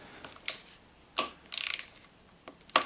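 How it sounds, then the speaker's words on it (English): A ratchet with a 10mm socket loosens a brake or clutch lever bolt on a Yamaha YZF R3 motorcycle, giving a few short metallic clicks and one quick rattling burst of ratchet ticks, close and fairly crisp. "it's just a 10mm socket, so we'll just get that in there"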